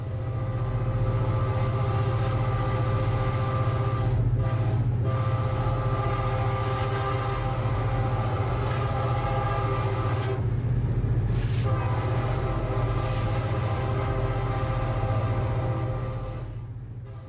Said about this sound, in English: Back aboard the intermodal train, we continue to make good speed